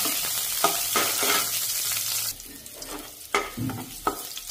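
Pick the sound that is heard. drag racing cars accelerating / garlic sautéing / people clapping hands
garlic sautéing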